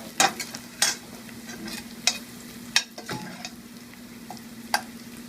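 Onions, tomatoes and whole chilies fry in hot oil, giving a steady low sizzle broken by several sharp clicks and scrapes of stirring, close and moderately loud, with no talking.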